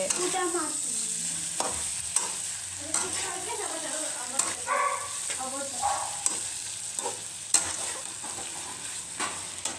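Potato palya stirred and frying in a pan: a spatula scrapes and clinks against the pan in an irregular rhythm over a steady soft sizzle, close up and alone.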